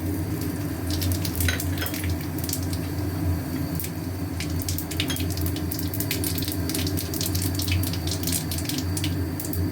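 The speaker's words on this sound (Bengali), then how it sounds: "তেল দিয়ে দিলাম কড়াইতে আর ফোড়ন দিচ্ছি তেজপাতা জিরে শুকনো লঙ্কা" Hot oil in a kadai sizzles steadily up close, dense with sharp crackles and pops as bay leaves, cumin and dried red chillies hit the pan, with no voices.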